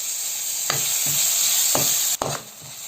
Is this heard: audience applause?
no